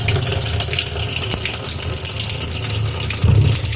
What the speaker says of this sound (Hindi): मैंने नल का पानी चलाया